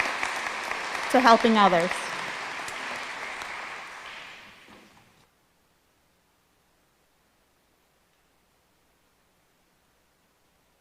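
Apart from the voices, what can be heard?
round of applause for honor society members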